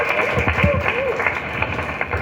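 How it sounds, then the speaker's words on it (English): Audience at a medical symposium applauding after a speech, a steady, moderate patter of clapping that continues under a speaking voice. "Let's give them a round of applause."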